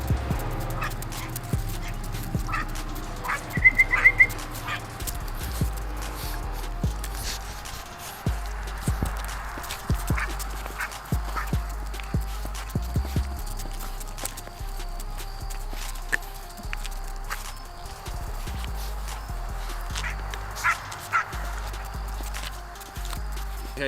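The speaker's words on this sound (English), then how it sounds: "So let me show y'all these puppies." Newborn puppies in a kennel whimper and let out occasional small barks, with scattered footsteps and shuffling nearby, all fairly close and intermittent over a quiet background.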